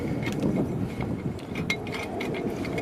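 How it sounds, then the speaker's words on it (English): Lug nuts being loosened on a car wheel during a flat tire change, with a series of quick metallic clicks and ratcheting clacks over low rumbling background, close and fairly loud, irregular in rhythm. "we're just going to loosen up the lugs on the wheel"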